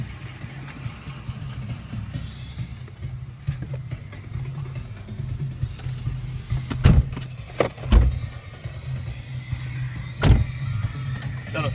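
2004 Ford F150 FX4 crew cab 4x4 pickup with a 5.4L engine on a test ride, a low steady cabin rumble with a few sharp thumps and clicks from inside the truck.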